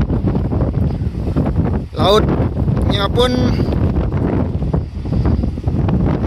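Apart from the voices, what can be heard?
strong wind at Tanjung Ringgit coast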